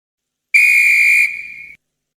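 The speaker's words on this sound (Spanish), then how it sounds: "Al sonar el silbato, los niños empezaron a atacarse" A single shrill whistle blast sounds for about a second, loud and steady, then drops slightly before stopping, with silence around it, in a narrated story about American football.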